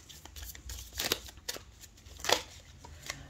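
Tarot cards being shuffled and drawn by hand, soft quick riffles and flicks with a few sharper snaps, quiet and close, in irregular bursts.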